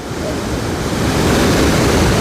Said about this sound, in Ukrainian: І такий сильний тут потік.